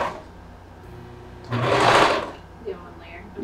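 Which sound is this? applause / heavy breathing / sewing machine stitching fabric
sewing machine stitching fabric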